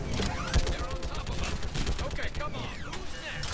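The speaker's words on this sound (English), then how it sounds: "A mounted gun that you have to reload like this?" A mounted gun in Mass Effect 3 fires rapid bursts amid a dense clattering battle, shots and impacts layered over one another with low rumble, while a voice talks over the action.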